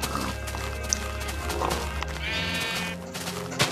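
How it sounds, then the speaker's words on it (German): Minecraft sheep bleating, a wavering in-game bleat amid steady game background noise and soft footsteps, with no talk over it. "Ein kleines Schaf nehme ich das jetzt."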